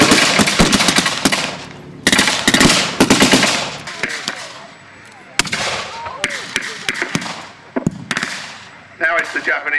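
Blank-fire gunfire from a 1940s battle re-enactment at Headcorn Air Show in Kent: sharp loud bursts and single cracks, some rapid machine-gun strings, some echoing in open air, with a commentator's voice audible between shots.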